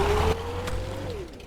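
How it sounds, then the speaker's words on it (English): Tires squealing in the Brick Rigs video game, a thin drawn-out scraping tone with a faint mechanical rattle beneath, fading after about a second. "The tire squealing noises are really weird."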